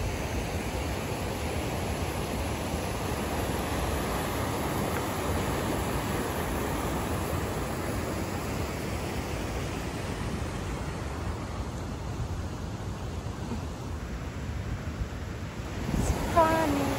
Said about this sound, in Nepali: यो पानीको आवाज कति राम्रो खाला।